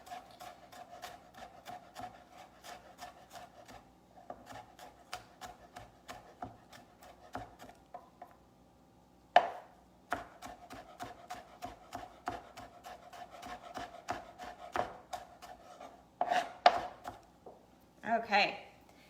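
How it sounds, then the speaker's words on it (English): Garlic cloves are sliced and chopped with a knife on a board, quick rhythmic knocks in a steady run with brief pauses, close and fairly crisp, with quiet background and no talking. "I just finally slice it and then chop it all up."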